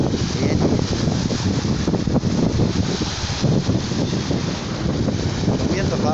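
Strong wind buffets the microphone at a seaside fishing spot, a steady loud roar that fills the whole clip with constant gusting noise.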